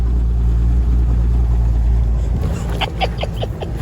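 A 1971 Chevrolet Nova six-cylinder engine runs at a steady close idle, a thick low rumble that holds throughout, with a few brief higher clicks and taps near the end.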